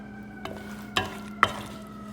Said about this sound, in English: I'm using the wooden spoon to spoon this into the pan and spread it